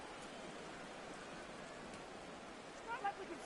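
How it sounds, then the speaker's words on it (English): Rain falls in an American football video game during a Giants at Eagles match. It makes a steady, even hiss throughout, and a few faint tonal blips come near the end. "So the rain has not let up."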